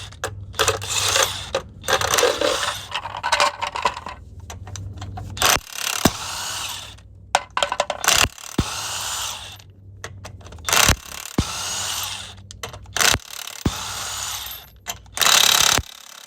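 Power tools and ratchets strip down the front wheel bearing assembly of a 2015 Chevy Express van. Loud, close bursts of impact-wrench rattling and mechanical clatter come in irregular spurts, separated by short quiet gaps.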